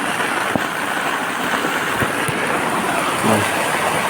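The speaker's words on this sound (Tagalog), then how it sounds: "Taas na ng ulan sa labas oh" Heavy rain falls outside and is heard from shelter as a steady, dense hiss with a few scattered knocks and a low rumble near the end.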